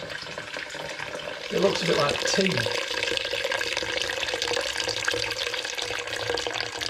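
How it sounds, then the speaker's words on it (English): Liquid runs steadily from the tap of a Muntons wine fermenter in a home brew of apple cider vinegar, a continuous splashing pour under a short spoken remark. "use the tap on the Muntons wine fermenter if I can."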